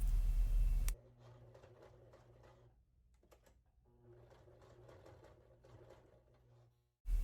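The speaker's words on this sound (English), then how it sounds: "I just sew it with a straight stitch, and I make sure it's super reinforced." A sewing machine runs a straight stitch to reinforce a strap on a one-shoulder shirt top, giving two quiet runs of rapid, even stitching separated by a short pause.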